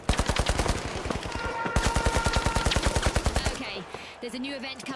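In The Finals video game, rapid automatic gunfire rattles in loud, steady bursts for several seconds, then cuts out, leaving a short stretch of fainter background noise.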